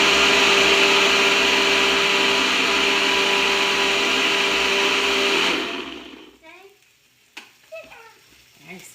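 A blender runs loud and steady, whirring through curried sweet potato and carrot soup for about five and a half seconds, then cuts off, leaving quiet kitchen clatter and a few faint voices.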